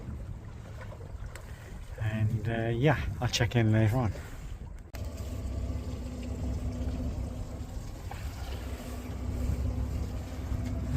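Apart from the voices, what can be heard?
225 hp outboard motor boat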